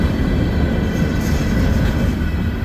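Freight train rolling past at close range, a loud, steady rumble and rattle of railcars, with a faint high squeal from the rails, no voices.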